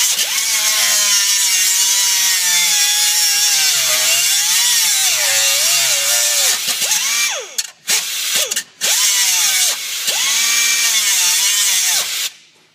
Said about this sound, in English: He's cutting away the little spot, very minor spot weld to hold this bumper on.